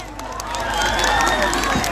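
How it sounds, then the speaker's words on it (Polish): Concert audience at an open-air end-of-summer music event in Myszków applauding and cheering, a dense wash of clapping and crowd noise that swells after a quieter start and holds steady. "Wielkie brawa dla was."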